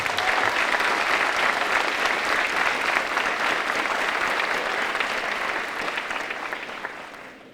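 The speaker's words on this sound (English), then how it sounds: "Would you please give our staff members a round of applause?" Sustained applause from a large audience at an eighth-grade promotion ceremony, a dense steady clatter of many hands that holds loud for several seconds and then gradually thins toward the end.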